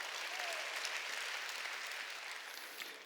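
A church congregation at a Sunday worship service claps together in a dense, even burst of applause lasting a few seconds, fading slightly toward the end.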